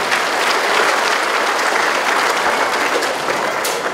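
Loud, dense applause fills an outdoor regional sports championship opening as a girls' team with its cup makes its entrance, a continuous roar of many clapping hands.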